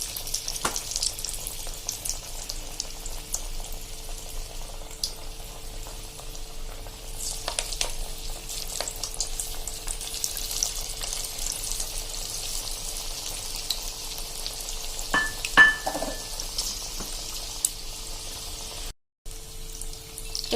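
Shaped moong dal vadas fry in hot oil with a soft, steady sizzling hiss. A few sharper pops and clicks stand out near the end, just before a brief silent gap.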